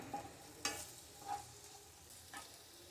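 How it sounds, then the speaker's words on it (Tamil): Cut vegetables sautéing in hot oil for kadai paneer, a faint, close sizzle with a few light stirring scrapes spaced about a second apart, no talking. "இதை வந்து இந்த ஆயிலில் போட்டுக்கிறோம் இதை வந்து ஒரு ரெண்டு நிமிஷம் வதக்கி எடுத்துக்கலாம்"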